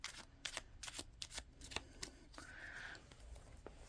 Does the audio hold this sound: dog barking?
no